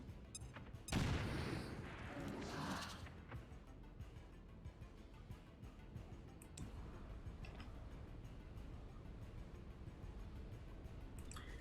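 Frag grenade blast in XCOM Chimera Squad, a sudden loud burst followed by a rumbling tail and scattered gunfire cracks that fade into a quieter ticking background.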